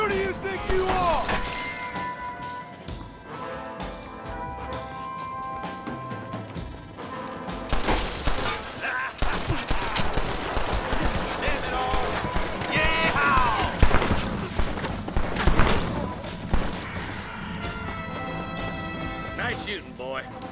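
Gunfire in the Red Dead Redemption video game on Nintendo Switch: scattered sharp shots and thuds mixed into a dense bed of game music and ambience, with a character voice speaking over parts of it.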